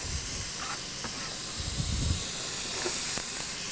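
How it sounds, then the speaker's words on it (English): Pancetta sizzling in melted butter and olive oil in a pan, a steady faint hiss with small crackles running continuously. "And I'm going to throw the pancetta in right now."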